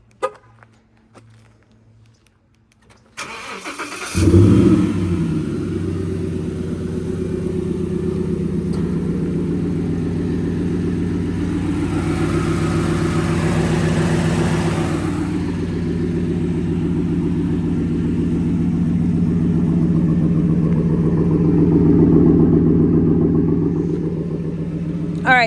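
A Race Red Roush Ford SVT Raptor pickup truck engine starts after a few quiet seconds. It settles into a loud, steady, throaty run, with a slight rise in revs toward the end and no talking over it.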